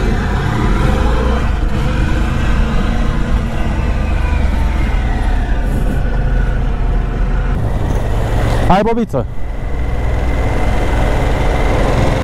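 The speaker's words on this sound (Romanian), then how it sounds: "Motocicletă nouă, trafic de București." A new motorcycle rides through Bucharest city traffic, its engine and wind roar loud and steady, with a short swooping whine near the end and a voice calling out briefly.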